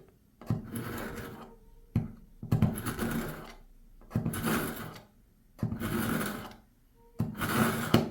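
An electric sharpener grinds in about five separate bursts, each roughly a second long, with short silent gaps between them. The grinding is close, fairly loud and rasping.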